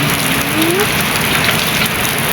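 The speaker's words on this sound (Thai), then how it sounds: "เก็บบรรยากาศฝนตก" Heavy rain falls steadily, a loud, dense hiss of drops on surfaces that stays constant throughout, with no voices.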